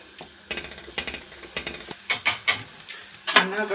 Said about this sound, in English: cook the flour out for a minute or two